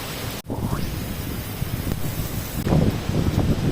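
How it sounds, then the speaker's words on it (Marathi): Dense, roaring wash of heavy rain at Harishchandra Fort, with gusty wind buffeting the microphone, growing louder toward the end. "पाऊस पण खूप जोरात येतोय"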